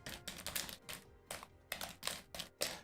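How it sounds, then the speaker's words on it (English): Packs of Elestrals Firestorm trading cards shuffled together by hand, a series of short rustling, riffling bursts repeating roughly every half second to second, fairly quiet and close with no talking. "Shuffle these together."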